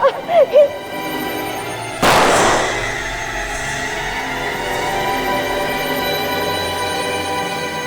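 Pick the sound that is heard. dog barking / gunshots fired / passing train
gunshots fired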